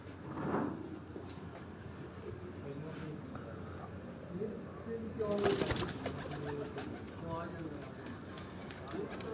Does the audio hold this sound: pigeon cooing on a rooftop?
yes